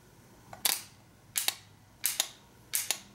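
A Ford truck starter solenoid being energized by touching its terminal gives four sharp, close clicks at regular intervals, each a quick double snap, with no talk.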